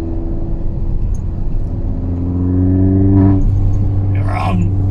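A Mini Cooper S engine hums at a steady 3000 rpm, a droning tone with a raspy edge that swells slightly, then fades as a brief voice appears.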